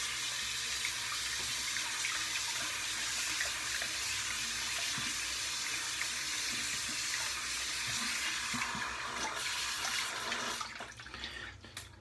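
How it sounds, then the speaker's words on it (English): Running tap water splashes steadily as a shaving brush is wetted under it, a close, continuous hiss that tapers off near the end. "let's get the brush wet and load it up."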